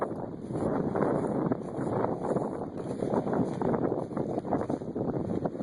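Strong wind blows outdoors on a cold day, roaring and buffeting the microphone in an unbroken, gusty rumble.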